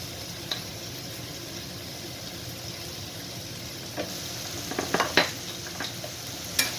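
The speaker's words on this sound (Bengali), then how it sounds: "নাড়াচাড়া করে দেবো।" Chicken mince frying with salt and turmeric gives a low, even sizzle, then a few sharp stirring clicks and scrapes cluster near the end.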